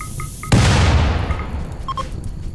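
A sudden loud explosion in the video game RimWorld booms and rumbles, then fades out over about two seconds, followed by a couple of faint electronic beeps.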